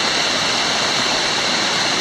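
A jungle waterfall in Kubah National Park, Malaysia, roars in a loud, steady wash of rushing water, a dense unbroken hiss heard up close with no voices.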